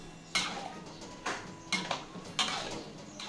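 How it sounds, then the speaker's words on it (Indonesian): Chayote stir-fry being stirred in a pan, with a few sharp clanks of a utensil against metal spaced about a second apart over a soft background hiss, close and without talk. "Oke, aduk dia ya sampai betul-betul tercampur semua."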